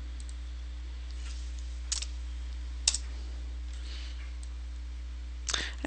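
A few sparse, light keystrokes click on a computer keyboard as a number is typed in, quiet against a low steady hum.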